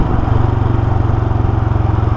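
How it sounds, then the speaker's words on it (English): A Royal Enfield Himalayan motorcycle idles with a steady, deep throaty exhaust burble, close and continuous with an even low pulsing rhythm throughout. "It has got a nice deep throaty burble to it."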